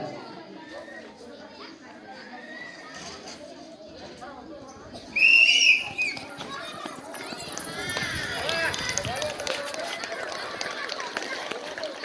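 A sharp, loud whistle blast starts a children's running race outdoors, ringing out for about a second over chatter and shouting that continues as the runners set off.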